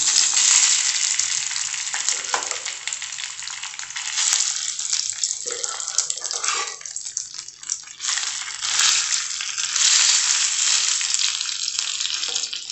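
Cooked pongal is added to a hot pan and stirred, giving close, continuous frying and scraping with wet squelches and occasional clinks of the spoon against the metal, and no talking.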